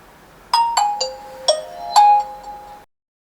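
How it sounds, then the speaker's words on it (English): A Nokia 8110 (2018) phone powering up plays a short chiming startup melody: five bright, bell-like notes in quick succession, ringing clearly and alone in a quiet room before fading out. "When the phone is about to finish turning on, you will hear this tone."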